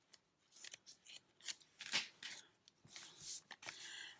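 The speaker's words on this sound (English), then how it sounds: "Let me just trim this off just a little bit." Scissors trim paper scraps for a journal, giving a run of quick, crisp snips up close with short gaps between cuts and no talking.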